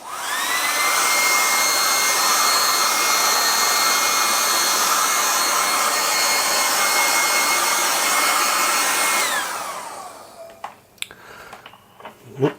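A blower force-dries an acrylic underpainting with a loud, steady high-pitched whir that runs for about nine seconds, then winds down and stops, followed by a few faint handling clicks and knocks.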